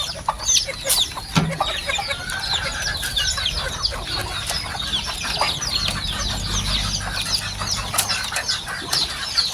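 Bulik chickens, mostly hens with chicks nearby, clucking and chirping in a busy farmyard chorus, with occasional wing flaps and a low background rumble.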